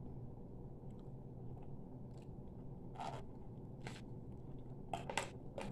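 Close, crisp bites and crunches from someone chewing cornstarch bricks, a few sharp snaps spaced across a quiet, muffled background hum.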